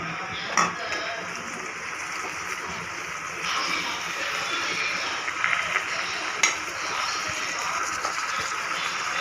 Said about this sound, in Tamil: இது வந்து வதங்கட்டும் வதக்கி விட்டுக்கலாம்